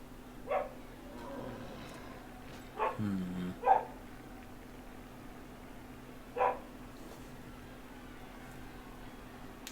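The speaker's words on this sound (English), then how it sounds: "Sorry if you can hear a dog barking, I think that's next door." A dog barks from next door, distant and faint: a few short, separate barks spaced over several seconds against a quiet, hissy background.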